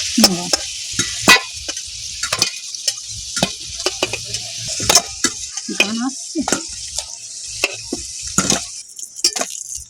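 Pieces of banana flower (mocha) fry in hot oil with a steady broadband sizzle, punctuated by frequent sharp utensil clicks and scrapes as they are turned, close and fairly loud throughout, no talking.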